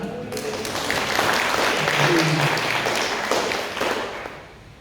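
A church congregation in a large room breaks into applause during a sermon, swelling then fading over a few seconds, with a voice faintly audible beneath.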